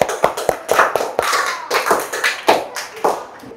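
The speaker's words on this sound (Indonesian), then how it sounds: "Ya, tepuk tangannya." A classroom of schoolchildren claps hands in a loose, uneven rhythm, sharp individual claps close by over a soft background of scattered voices.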